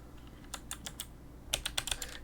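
A command typed on a computer keyboard during a Windows 11 setup, a few scattered key clicks followed by a quicker close cluster of taps.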